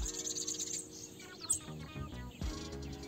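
Two caged bananaquits (sibite) sing in thin, high, rapid chirping trills, fairly faint and close, with brief gaps between phrases and a sharper burst toward the end.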